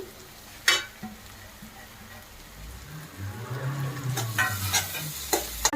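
Ginger-garlic paste and masala spices fry in a hot pan for a village-style egg rice, a soft sizzle swelling midway, with stirring scrapes and a few sharp clinks; no one speaks.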